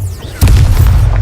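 Confringo blasting spell explosion in the video game Hogwarts Legacy: one sudden loud boom with a heavy low rumble that lingers briefly after a quieter lead-in.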